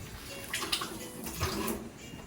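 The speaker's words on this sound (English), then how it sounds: "Let me wash my hand" Hands being washed under a running kitchen tap while cooking, a steady close splash of water with a few brief surges, no talk.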